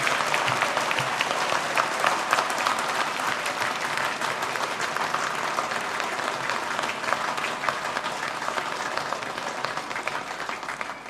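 A crowd at the Maheshwari Pragati Mandal annual function and prize distribution in Mumbai applauds a student with sustained, dense clapping that holds steady throughout and eases slightly toward the end.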